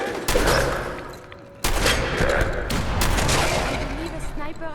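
Sniper gunfire in Fallout 4 combat: loud sharp shots crack out at about 0.3 and 1.6 seconds, followed by ongoing rumble, impacts and game noise, with voices speaking over the action.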